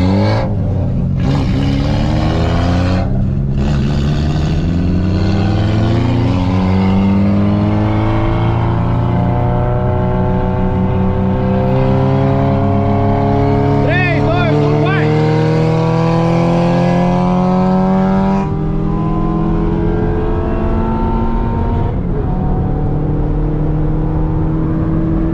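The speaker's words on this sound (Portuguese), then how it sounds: "Tô acelerado o carro." A Ford Ka 1.6 engine accelerates hard through the gears in a sustained, loud drone, with rising engine pitch broken by brief dips at each gear change.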